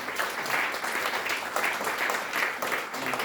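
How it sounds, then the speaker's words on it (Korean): An audience at an international forum on North Korean freedom gives a round of applause, steady, moderately distant clapping that swells in small waves and continues throughout. "큰 감사의 박수 부탁드리겠습니다"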